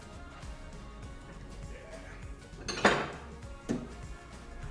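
A glass Pyrex bowl is handled in a kitchen, giving one sharp clinking knock followed by a second lighter clink against a quiet background.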